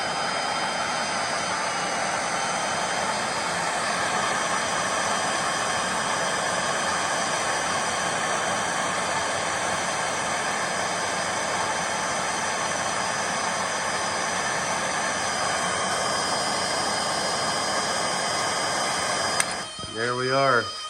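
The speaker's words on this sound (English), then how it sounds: "Now we're going to get out our torch." A torch roars steadily and loudly at close range while heating a wheel bearing race on a car hub flange, a continuous broadband hiss, ending with a brief clatter and voice.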